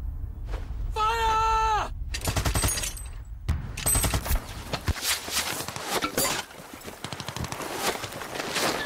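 Battlefield sound from a WW1 Battle of the Somme documentary: rapid machine gun bursts and scattered gunshots crackle amid a rising whistle, hoofbeats and commotion, with shouted voices in between.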